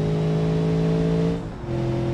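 A Porsche Panamera engine in the BeamNG.drive driving game holds a steady, loud, sustained hum with strong low harmonics, dipping briefly before settling back at a slightly lower pitch.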